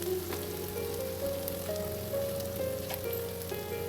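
Chopped onions and green chilies sizzle steadily in a little oil, a dense continuous frying hiss heard close up, with a faint tonal hum underneath and no talking.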